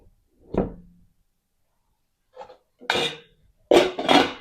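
Sticky rice is put into a large pot for mango sticky rice, with a few separate clunks and scraping knocks of a utensil against the pot, sparse and close, with no talk.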